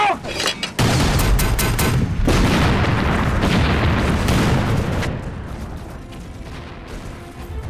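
Artillery cannons fire in a war drama about the fight against Japan, with a dense barrage of booms and blasts that fades into a lower rumble, and voices faintly beneath.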